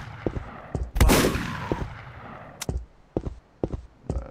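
Close, punchy gunshots in a Call of Duty Nazi Zombies fan game fire at zombies: a big blast with a trailing roar, then scattered single shots at uneven intervals.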